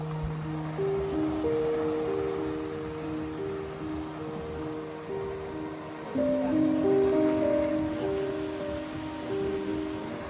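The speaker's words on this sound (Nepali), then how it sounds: "हावा चाहिँ खत्रै चल्दो रहेछ" Strong, cold wind blows at the seaside in Cyprus, a loud, steady broadband rush that swells midway, with faint steady tones underneath.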